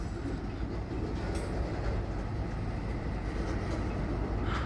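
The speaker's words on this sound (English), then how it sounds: "I think they're stopping up here, this coal train." A coal train rolls along the rails in a loud, continuous rumble and rattle of wagons, heard close and steady throughout.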